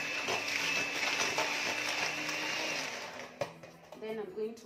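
An electric mixer whirs steadily through cake batter just after eggs go in, a close, continuous buzzing drone that eases off near the end while someone speaks over it.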